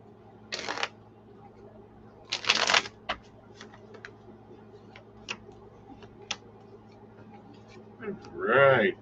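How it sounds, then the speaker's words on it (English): Tarot cards being shuffled, a few short crisp riffling bursts with scattered light card taps between them, close and fairly quiet, with a brief voice near the end. "let's get a good shuffle on here"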